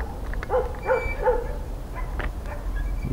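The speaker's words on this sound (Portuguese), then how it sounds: "E tem cachorro." A dog at a house on a hillside barks four or five times in quick succession, fairly close and clear over a low background rumble, then a few fainter yips trail off.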